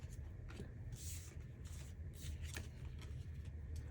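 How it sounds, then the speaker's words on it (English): Playing cards are shuffled close up in a series of quick riffling bursts with brief pauses, soft and papery over a faint room hum. "I just shuffled some cards"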